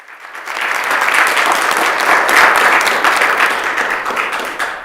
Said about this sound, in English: And if we could give him a round of applause, please.